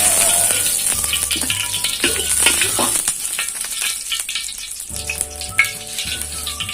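Food frying in pork lard for Thai grilled nam fried rice gives a loud, continuous crackling sizzle with stirring scrapes, set against background music.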